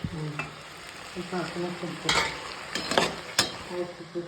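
Scraping, clattering stirring of upma in a frying pan with a soft sizzle underneath, several distinct utensil strikes scattered through, fairly close.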